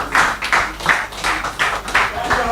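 Audience applause at an investing seminar, rhythmic bursts of clapping pulsing in a steady beat, fairly loud and close.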